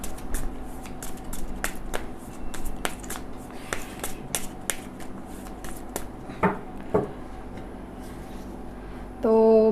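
Cards from a tarot deck are shuffled by hand: a quiet, fairly rapid series of crisp riffling clicks and snaps with a soft rustle between them, followed by a short burst of speech at the very end.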